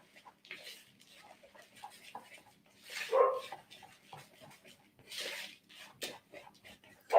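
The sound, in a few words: dogs barking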